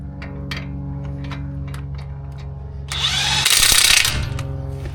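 A power tool with a socket backs out a bolt while a sensor is being replaced on a 2016 Jeep Wrangler, heard as a steady low motor hum that rises into a loud, harsh whirring burst near the end.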